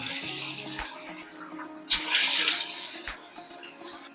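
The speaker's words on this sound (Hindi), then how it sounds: "अब कचरी के पेस्ट को इस तरह से छोटे छोटे टुकड़ों में उठाएंगे और तेल में डालते" Small pieces of chana dal kachri paste dropped into hot oil, giving a steady sizzling hiss with a few sharper splashy bursts as new pieces go in, heard close and fairly loud without any talk.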